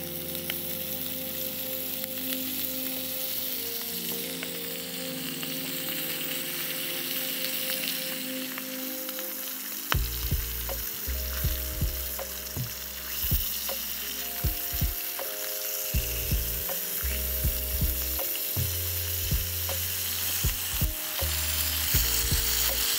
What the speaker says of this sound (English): I think I'm gonna warm up a couple tortillas, see if we can make a little breakfast wrap out of these